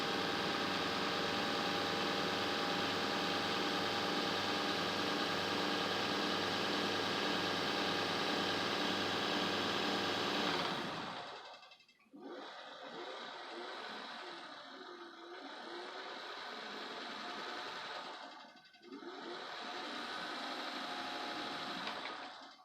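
A vintage Singer sewing machine runs in a steady, dense whir for about eleven seconds, then drops to a quieter hum with brief pauses and restarts, close to the microphone.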